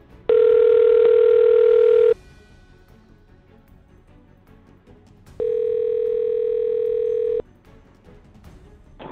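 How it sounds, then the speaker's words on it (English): A telephone rings out on an outgoing call, two long steady electronic tones about two seconds each separated by a quiet gap, clear and loud. "I'm going to give him a call right now."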